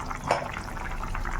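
Water poured into a bowl of raita, a short close splash and trickle over steady kitchen background noise.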